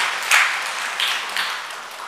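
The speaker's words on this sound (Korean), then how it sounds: "저는 여러분들께 감사의 박수를 올려드리고 싶어요" A church congregation breaks into applause during a revival service, giving a soft, diffuse patter of many hands with a few brief swells, heard from across the room.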